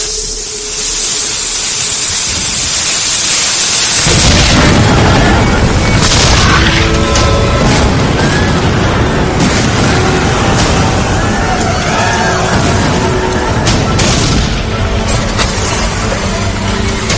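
Union cannons fire at Gettysburg in a loud, sustained barrage of heavy booms and rumbling blasts, building after a quieter opening and continuing densely with no talk.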